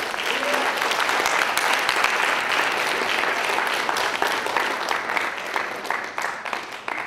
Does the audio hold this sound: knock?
no